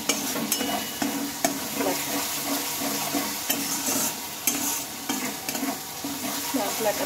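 A spice mix with sugar for a raw banana and split pea dal dish is stirred in a hot pan, sizzling steadily with repeated scraping strokes and no talk.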